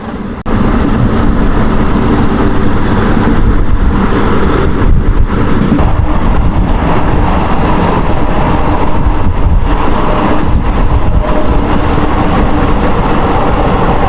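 A local train rumbles steadily along the rails at night between Bardhaman and Durgapur near Panagarh station, a loud continuous low roar with rattling carriage noise throughout.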